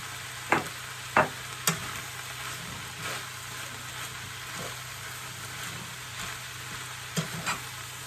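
Seasoning is stirred into mince frying in a pan, a faint steady sizzle broken by a few sharp scrapes and clinks, quiet and close over a low background hum.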